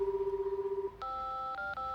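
A phone tone pulses rhythmically and then gives way to a short run of dialing tones with two quick key beeps, clear and close in an anime episode scene.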